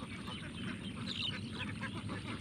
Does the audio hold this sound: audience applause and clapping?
no